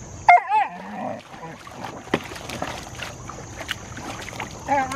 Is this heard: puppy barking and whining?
yes